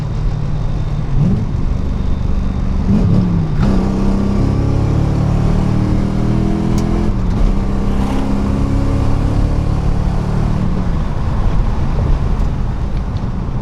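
A Nissan 240SX fitted with a 1UZ V8 engine is driven hard, its loud, steady engine roar filling the cabin while the pitch climbs and falls through repeated hard accelerations and gear changes.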